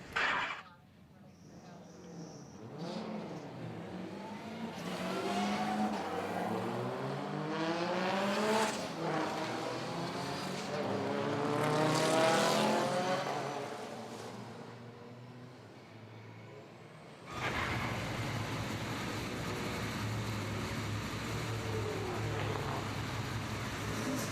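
Race car engines start up and idle on track at a GT1 and GT2 race, rising and falling revs with a steady rumble underneath, then shifting to a denser, constant drone, with a commentator talking over it.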